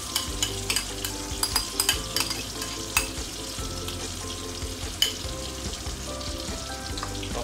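Chili paste with dried prawns sizzles and spits steadily in hot oil in a pan, with frequent scraping clicks from a stirring utensil over the constant close frying hiss.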